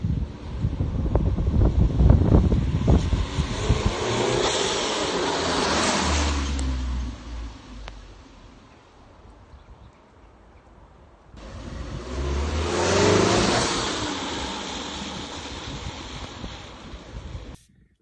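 A car engine runs on a Ford Escort Cosworth replica that uses the standard RS 2000 ECU, injectors and pump, with a rough, rumbling note that rises, fades almost to nothing, then swells again, buffeted by wind noise on the microphone.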